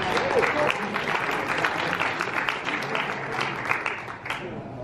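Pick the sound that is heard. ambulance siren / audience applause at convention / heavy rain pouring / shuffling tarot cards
audience applause at convention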